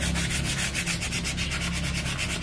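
Sandpaper scrubbed over an old, lightly rusted iron mandau blade, a rapid rhythmic rasping of back-and-forth strokes, close and steady with no voices.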